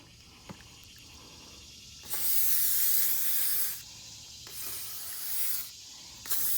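Bursts of aerosol lubricant spray hissing onto an RV slide-out track, one long blast followed by two shorter ones, close by with quiet pauses between.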